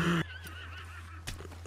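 A horse neighs loudly at the start, a brief shrill whinny, followed by quieter game-like sounds and a soft thud.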